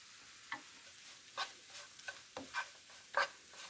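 Crushed sesame being stirred into food frying in a pan, with a soft sizzle under several quiet scraping strokes of a utensil, no voices.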